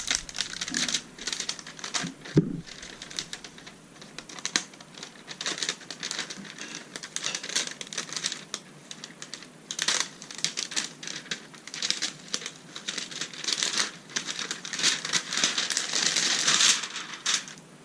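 Protective plastic film being peeled off an Asus RT-AC88U router: a long stretch of close, crackly crinkling and patter, rising and falling in bursts.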